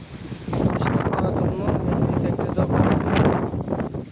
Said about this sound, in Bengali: এখন ওই দেখেন কত বাতাস